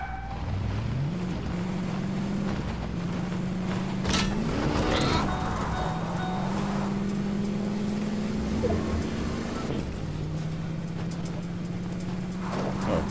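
A car driven in the video game Fortnite, its steady engine drone holding a low tone that steps up and down with gear changes, continuous and fairly loud, with players talking over it.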